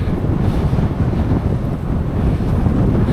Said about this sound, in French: Il y a pas mal de vent, ça va être très intéressant.